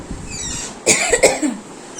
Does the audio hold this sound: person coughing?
yes